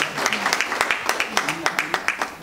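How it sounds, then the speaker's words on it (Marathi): Audience at a Marathi public library lecture gathering clapping in a lively, fairly close burst, individual claps distinct and rhythmic over a couple of seconds. "त्यांच्यासाठी एकदा जोरदार टाळ्या."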